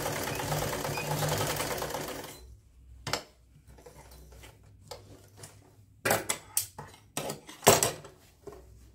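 A sewing machine stitching over elastic on palazzo pants: a short, close run of steady mechanical stitching, then quiet stretches broken by intermittent clicks and clatter of handling.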